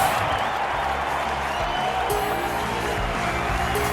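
A stadium crowd applauding in the London 2012 Olympics video game on PC, dense continuous clapping and crowd roar at steady loudness, with faint whoops and the game's ambient tones.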